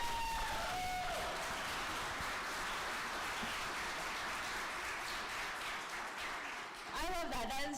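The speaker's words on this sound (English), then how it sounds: "Let's give a round of applause for Paola-Marie." Audience applause at the closing session of a conference, a steady wash of clapping held throughout with a few whoops near the start and end and voices mixed in.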